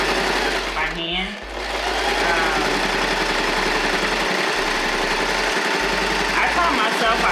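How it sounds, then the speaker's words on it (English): A sewing machine runs steadily and loudly while stitching fabric for a child-size bow tie, its motor whir holding constant with a brief dip near the start; a person talks faintly underneath. "a portion of it is sewn with the machine and a portion of it is sewn by hand"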